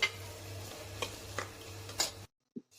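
Steady sizzling hiss of salted onions frying in a pan, with a few soft clicks of stirring, then it cuts to near silence.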